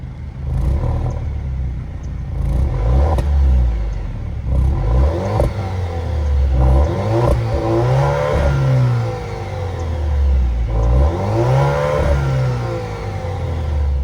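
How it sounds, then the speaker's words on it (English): A 2022 Alfa Romeo Stelvio Ti's 2-liter turbocharged four-cylinder engine starts and is revved several times, each rev rising into a throaty roar and falling back to a rumbling idle. "that was, of course, the sound of the 2-liter turbocharged 4-cylinder engine"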